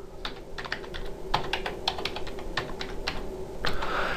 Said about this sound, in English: And I'm going to type in the password.